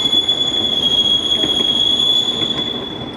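A train runs loud and close, its wheels squealing in a sustained high metallic whine over rattling rail rumble, with no voices.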